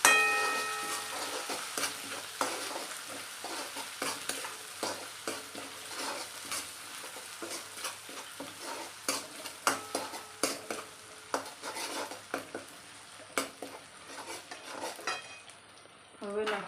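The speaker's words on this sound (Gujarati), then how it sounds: "હવે આપણે નાખીશું આદુ લસણની પેસ્ટ નાખીશું। એને પણ આપણે થોડી વાર શેકી લઈએ।" Ginger garlic paste fries with sautéed onions in a pan for chicken curry, a soft steady sizzle broken by repeated scraping and clinking of a spoon stirring against the pot, quiet and close.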